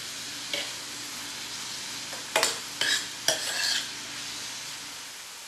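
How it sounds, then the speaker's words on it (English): Carrots and onion being stirred and sautéed in a pan, a soft steady sizzle with a few brief scraping stirs of a utensil against the pan, close and fairly quiet. "Now I'm going to mix the carrots and onion."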